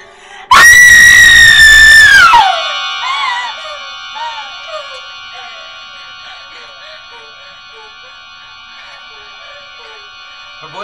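A woman's loud, piercing scream during a dramatic horror reading lasts about two seconds, then cuts off into faint, quieter background tones.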